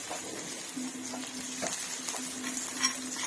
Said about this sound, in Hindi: अब देखिए इसमें हम जो हरी मिर्च और लहसुन का मोटा मोटा कुटा हुआ पेस्ट डालेंगे।